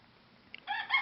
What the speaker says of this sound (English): I didn't understand what that rooster said.